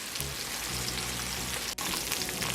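Steaks searing on a hot grill, a loud, dense, steady sizzle that barely pauses apart from one brief dip.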